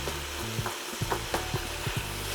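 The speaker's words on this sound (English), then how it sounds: "give this a nice little stir" A spoon stirs a pasta sauce cooking down in a pan. Soft scraping strokes come in a steady rhythm over a low sizzle, close and moderately loud, with no one talking.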